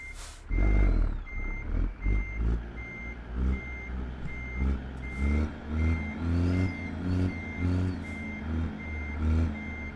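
A Peterbilt 389 truck in American Truck Simulator reverses to couple a trailer, with steady evenly spaced reversing beeps over a rumbling diesel engine that surges in pulses, and no talk.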